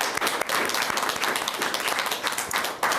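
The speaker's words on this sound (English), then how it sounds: "Let's give them a round of applause." Audience applause at a governor's bill signing for HB 3440, honoring state representatives: dense, steady clapping from a crowd filling the room for about three seconds, with no talking over it.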